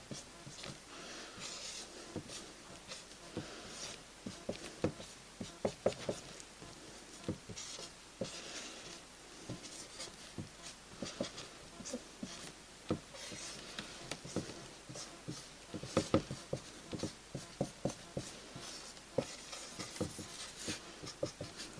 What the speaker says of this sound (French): je dessine un peu grossièrement là